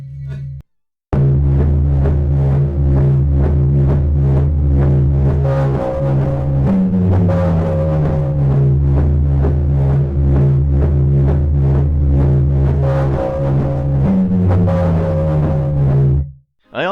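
Loud, dense synthesized fighting music for a game jam project, processed with chorus, compressor and distortion, pulses in a steady driving rhythm with a heavy low drone and shifting melodic lines, cutting off abruptly at the end.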